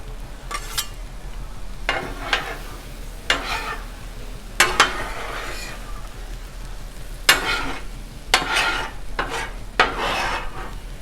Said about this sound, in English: Man, I love cooking eggs on this thing.